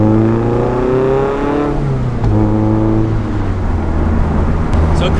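A Mazda NC Miata fitted with an Integral Kobe N-Zero muffler revs up, its exhaust note climbing in pitch, then drops and climbs again before settling into a steady drone, loud and close.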